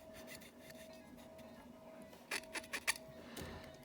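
Plastic weapon accessories scrape into the textured palm grip of a Ragnarok Hulk action figure, giving faint rubbing and a few quick scratchy clicks near the end.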